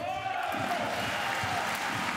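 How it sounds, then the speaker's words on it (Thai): Audience applause fills a badminton arena at a Sudirman Cup 2021 match, a steady wash of clapping from a crowd under a commentator's voice for a couple of seconds. "ปรบมือให้ค่ะ"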